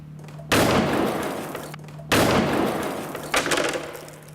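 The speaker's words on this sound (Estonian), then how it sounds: "Pauk käis tugev ja 3 õhupalli läksid katki" Three sharp bangs from a ram crash test on a model vehicle meant to cushion a side impact, as balloons burst on impact, loud and close, each followed by a short decaying rumble, with no talk.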